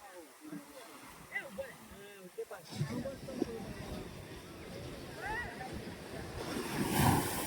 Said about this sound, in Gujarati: જો પેલો કેટલો મોટા મોજા આવે છે।